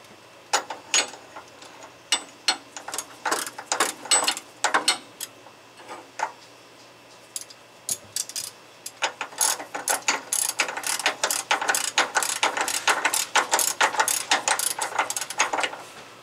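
A ratchet wrench tightens the steering gear bolts on a 1997 Crown Victoria Police Interceptor, giving close, rapid bursts of clicking, a short pause midway, then a long steady run of quick ratchet clicks.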